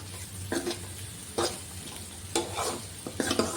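Onions fry lightly in oil for pongal batter. A soft, low sizzle runs steadily underneath, broken by several brief scraping bursts as they are stirred, and no one speaks.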